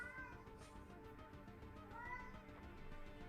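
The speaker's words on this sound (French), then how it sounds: "J'ai le chat qui craque à côté, en train de chanter, là." A cat meows and yowls nearby during a tabletop roleplaying session, drawn-out calls repeating faintly in the background of a quiet room.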